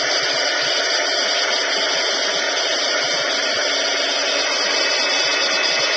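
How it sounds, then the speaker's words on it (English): A heat embossing tool blowing hot air to set embossing powder, giving a loud, steady, close-up whirring roar that runs unbroken and alone throughout. "I'm going to use my heat tool and heat set it"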